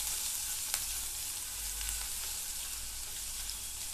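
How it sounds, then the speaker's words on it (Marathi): Ginger-garlic paste sautéing in a pan over a medium flame gives a constant, even hiss of frying with a few faint utensil taps, close and unbroken, no voices. "आता यामध्ये आपण आलं लसूण पेस्ट घालूया. हे चांगलं परतवून घेऊया."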